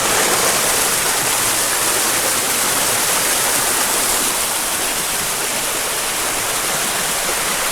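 Nanny Falls in Jamaica, a waterfall of three falls in one, roars as a steady, loud, dense rush of water that stays constant throughout, with no voices heard.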